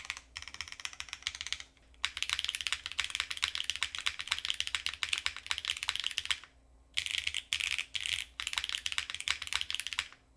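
Rapid, close typing on an Athena 1800 mechanical keyboard with PCB gasket mount, loud clustered keystrokes in steady bursts, with short pauses around two and seven seconds.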